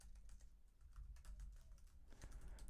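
Fingers type on a computer keyboard, a quiet run of uneven clicking keystrokes close by with one heavier tap near the end and no talking.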